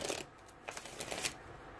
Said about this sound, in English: I'm gonna beat these cards down